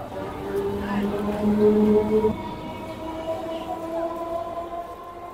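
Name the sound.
Bongaon local train arriving at Ashoknagar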